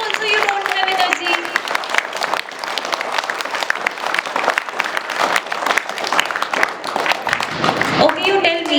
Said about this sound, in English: So clap for yourself now.